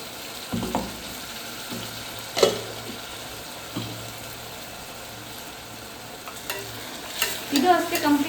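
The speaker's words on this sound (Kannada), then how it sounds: "ಕಂಪ್ಲೀಟಾಗಿ ಹಸಿ ವಾಸನೆ ಹೋಗೋವರೆಗೂ ಇದನ್ನು ಚೆನ್ನಾಗಿ ಹೀಗೆ ಮಿಕ್ಸ್ ಮಾಡಿಕೊಳ್ಳಿ" A thick ground masala paste stirs and scrapes around a hot pan as it fries, with a low steady sizzle and a few sharper spoon knocks against the metal, close and alone with no voices.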